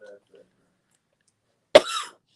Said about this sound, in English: I'm sorry if I cough, people.